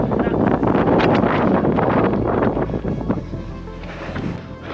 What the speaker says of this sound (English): And hopefully get out of the wind.